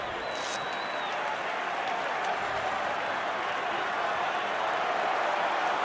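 A rugby stadium crowd at a Warriors versus Gloucester match bursts into steady, loud applause and cheering after a try, a dense, continuous roar of clapping heard from a distance.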